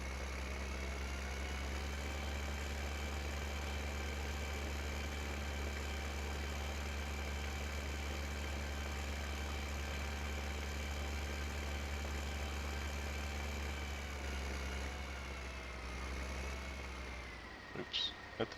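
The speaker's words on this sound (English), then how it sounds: "Go ahead and get this tractor out of the way." A tractor engine in Farming Simulator 15, a steady, close, droning idle that holds evenly for a long stretch before shifting at the end with a couple of sharp knocks.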